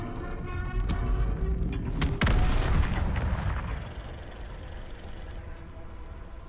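Artillery strike fire in Helldivers 2: a heavy boom erupts around the two-second mark and rolls out over several seconds, layered over rumbling engine-like background noise that then settles to a steady lower hum.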